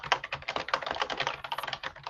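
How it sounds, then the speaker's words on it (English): Rapid typing on a mechanical keyboard, fast clattering key clicks in an irregular burst, close and clear, with no voices over it. "And I hear lots of typing."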